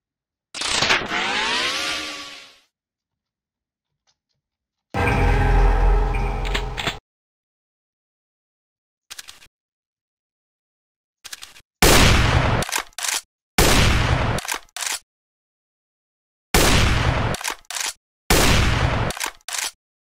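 Gunfire bursts from the video game Doom 2 come in loud, abrupt clusters separated by dead silence, beginning with a longer rolling barrage and followed by several short, punchy volleys, with no voices.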